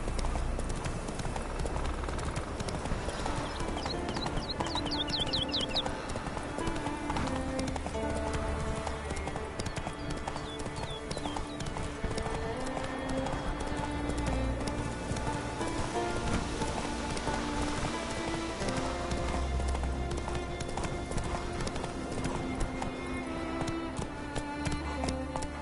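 Hooves of the horse Roach from The Witcher 3 clip-clop in a steady galloping rhythm over a continuous rain-on-surface backdrop, with faint game music and ambience underneath.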